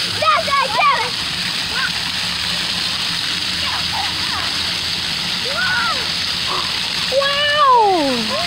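Steady rushing and splashing water at an outdoor splash pad, loud and continuous, with children's high voices calling out over it at a few points.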